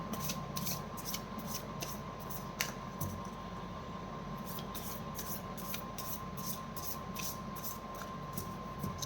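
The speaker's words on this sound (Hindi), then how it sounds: "अब हम मेजर अरकाना से चेक कर लेते हैं कि क्या एनर्जी निकल कर आती है आपके लिए। एक बार मैं शफल कर लूँ।" Tarot cards from the Major Arcana being shuffled in a series of quick, rhythmic riffles over a steady room hum, fairly faint and with no one speaking.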